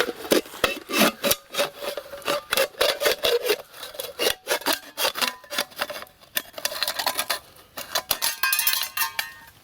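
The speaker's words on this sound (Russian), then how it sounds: "Я не мог пилить им так же легко, как и модом." The serrated edge of a Blackhawk Mark I knife saws through material during hard-use testing. Rhythmic rasping strokes repeat quickly and close by, with no voice.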